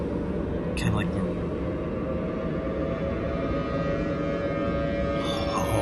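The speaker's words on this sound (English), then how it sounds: "Oh man, that thunderbolt siren is terrifying." A Thunderbolt civil defense siren from an emergency alert scenario drones loudly and steadily throughout, a sustained wailing tone over a rumbling bed, with brief speech-like bursts near the start and end.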